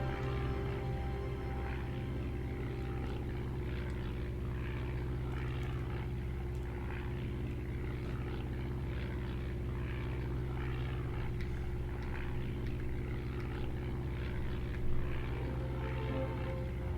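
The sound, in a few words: WWI aircraft engines in video game Over the Front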